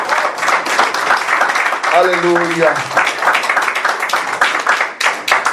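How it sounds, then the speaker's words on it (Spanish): Church congregation clapping during a Spanish-language sermon on the fear of God, a busy, loud patter of hands mixed with voices, and someone calls out briefly over the clapping partway through. "Den un aplauso al Señor."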